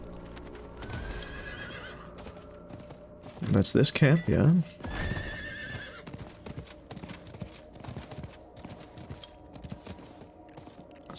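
In the video game Diablo IV a horse gives a loud, near whinny while hooves clip-clop steadily throughout, with someone talking over the sounds.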